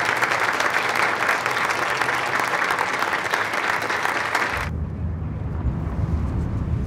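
Loud, dense applause from a large audience welcoming a flag on stage, steady and continuous for several seconds before cutting abruptly to a quieter, low rumbling room tone.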